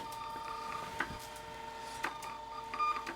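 A thermal printer prints packing slips and shipping labels, with a quiet, steady mechanical whir and faint periodic clicks at a low, distant level.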